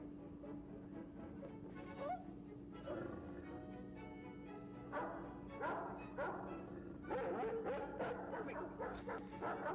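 Dog in the 1939 film Wuthering Heights giving scattered short barks and yips at a moderate distance, set against a low steady hum and faint background voices.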